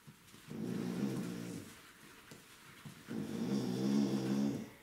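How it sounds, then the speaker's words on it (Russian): An American Staffordshire Terrier indoors makes two long low grumbling, snore-like vocal bursts, answering another dog outside, fairly close and moderately loud with a pause between. "с собакой на улице Берта общается"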